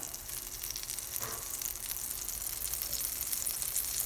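Butter sizzling in a hot pan before making a cheese bread omelette, a steady, fairly quiet hiss that continues unbroken, heard alone.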